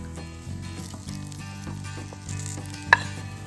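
Alu vadi, fried colocasia-leaf rolls, sautéing in a pan with browned coconut, giving a steady low sizzle with soft scraping stirs and one sharp utensil clink near the end.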